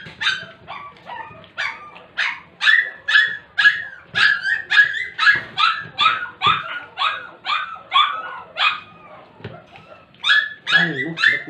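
Puppies bark in a rapid, rhythmic string of high yips and whimpers, close and loud, continuing for several seconds with brief pauses between bursts.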